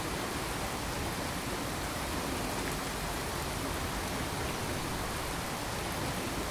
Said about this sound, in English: I'm going to end the rain.